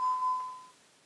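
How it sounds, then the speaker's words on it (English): An Ademco VISTA alarm keypad gives a single clear electronic chime as a door opens, a pure tone that rings briefly and then fades out over about a second in a quiet room. "you'll hear the chime on the keypad"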